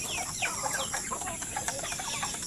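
Native breeder pullets on a farm cluck and chatter in overlapping short calls, close by over a steady background hum.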